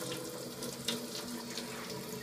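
Water runs steadily from a tap in a house under inspection, a continuous broadband rush with a faint clink partway through, close and moderately loud with no talk.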